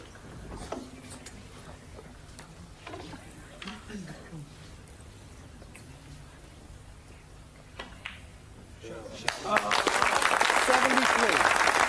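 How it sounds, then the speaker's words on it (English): A snooker crowd bursts into loud, sustained applause in the final seconds, following quieter stretches of occasional ball clicks and talk. "Certainly thrilling this crowd is Ronnie O'Sullivan."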